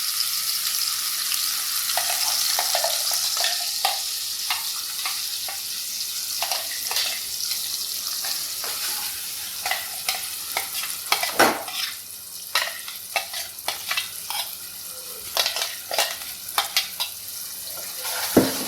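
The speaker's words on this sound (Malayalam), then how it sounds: "അതിൻ്റെ പച്ചവാസന പോകുന്ന വരെ നമുക്കൊന്ന് ഇളക്കി കൊടുക്കണം" A ground spice paste is stirred in a frying pan over a soft continuous sizzle, with scraping and clinking strokes that turn into frequent sharp knocks of the utensil against the pan toward the end, no one speaking.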